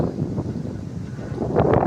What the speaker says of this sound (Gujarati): વરસાદ આવું થઈ ગયો હોય એવું લાગે છે, પણ પવન એટલો છે.